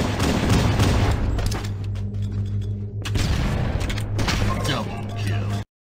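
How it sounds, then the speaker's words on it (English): Dense Halo gameplay combat with sustained gunfire and heavy booming grenade blasts, loud and continuous with a steady low hum beneath, cutting off abruptly at the end. "You are shooting as much as you are throwing grenades and as much as you are meleeing"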